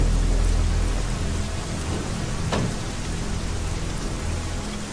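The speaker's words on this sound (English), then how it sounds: "I hear thunder" Steady rain falling with a constant hiss, and a single low rumble of thunder rolling through partway, no voices present.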